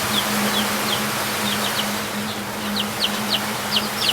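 Small chicks peep repeatedly during a vaccination session, with quick high chirps scattered through the clip over a steady low hum and a hiss of background noise, no talking.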